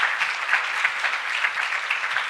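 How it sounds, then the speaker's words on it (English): Audience applause at an advocacy awards conference: steady, dense clapping from a crowd, even and sustained throughout without a break, close and moderately loud with no voices over it. "A big applause."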